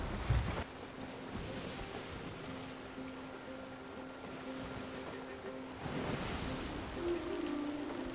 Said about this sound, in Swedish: Det är mycket vågor på havet.